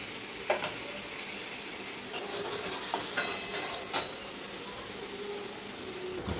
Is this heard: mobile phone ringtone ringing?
no